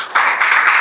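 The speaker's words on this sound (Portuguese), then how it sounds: "Você pode aplaudir Jesus nessa noite?" Church congregation clapping, a brief burst of dense applause that starts sharply and carries on evenly at close range, with no voices over it.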